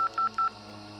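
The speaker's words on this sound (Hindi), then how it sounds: "फोन मिलाने लगी," Three short electronic touch-tone beeps in quick succession, then a low steady hum continues with no more tones.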